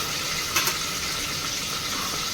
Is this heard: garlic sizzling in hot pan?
yes